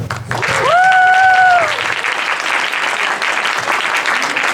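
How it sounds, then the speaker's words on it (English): Loud applause from a conference audience fills the room as a speaker is welcomed to the stage, with a whistle or cheer rising over the clapping early on. "Please welcome her with a huge round of applause."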